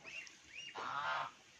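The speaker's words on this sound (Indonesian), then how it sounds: "Angsa besar dan angsa kecil." Geese, both large and small, honk in two short calls followed by a longer, louder burst of honking, close by with no talk over it.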